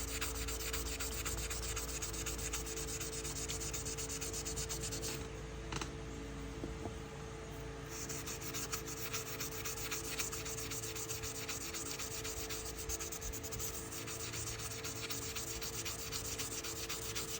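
A Case XX pocketknife blade being lightly abraded up and down to add grind lines, a steady close rasping rub that continues without pause, briefly softer midway.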